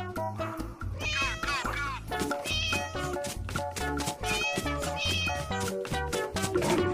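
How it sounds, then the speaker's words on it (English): A cat meows repeatedly over loud, busy music with a steady beat, the meows rising and falling in pitch. "Cat."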